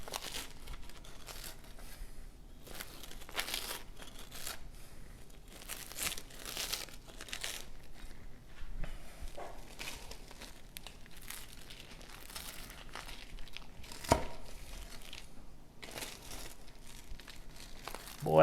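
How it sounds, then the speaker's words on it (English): Crisp roasted garlic rosemary focaccia is cut into squares with a knife, giving repeated close crunching and crackling bursts of crust at an irregular pace, with no talk. "you cut it in squares. Hopefully you can hear that crunch"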